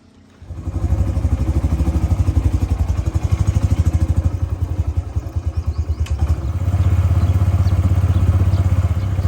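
A mud-spattered motorcycle starts up and runs outdoors on a rainy village morning, its engine chugging in a fast, steady rhythm close by, then revving slightly louder toward the end.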